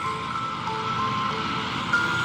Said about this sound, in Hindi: गुल्ली को किसी गाड़ी के आने की आवाज